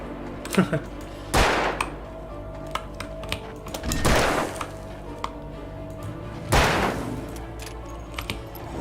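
Gunfire in a horror ghost-hunting video game: three loud, sharp shots roughly two and a half seconds apart, with faint clicks and handling noises between them.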